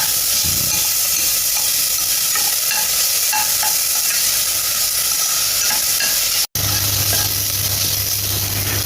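Onion frying in a little oil or ghee for pulao, a loud steady sizzle with stirring scrapes across the pan, broken briefly by a short gap before the hiss resumes.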